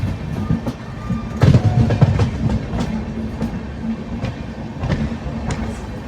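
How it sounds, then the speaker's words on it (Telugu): The Bengaluru–Tirupati Intercity SF Express running on its tracks, a loud rumbling roll with rhythmic clickety-clack wheel beats over rail joints, close and continuous throughout with no voices. "ఫుల్ టర్నింగ్ కొడుతుంది చూడండి మన ట్రైన్"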